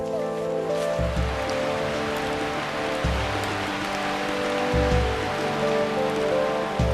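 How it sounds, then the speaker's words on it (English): Steady rain patters on forest foliage in a dense, continuous hiss, with faint low rumbles underneath and no voices. "Their sensitive hearing amplifies the sound of rain on leaves, making insect hunting nearly impossible."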